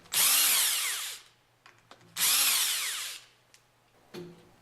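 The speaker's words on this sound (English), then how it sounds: "Use the impact wrench with a 5mm hex attached to loosen the 4 bolts from the top" An impact wrench fitted with a 5mm hex loosens bolts on a pump's top cover in two loud, close bursts of whirring hammering, each about a second long, with small clicks and handling knocks between them.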